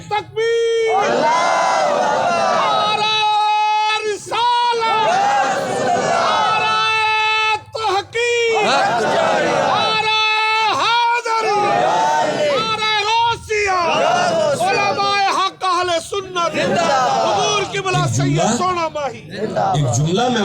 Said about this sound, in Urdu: کھڑے ہو کے ادھر منہ کر کے نعرہ سنائیں گے